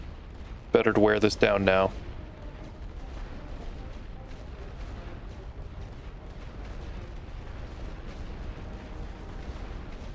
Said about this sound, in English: let's do another light barrage, why not?